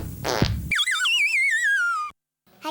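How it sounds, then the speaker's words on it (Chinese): A cartoon fart sound effect, meant as a stomach noise, plays loud and alone: a short buzzy burst, then a long wobbling, warbling tone that slides downward before cutting off. "胃在放屁。"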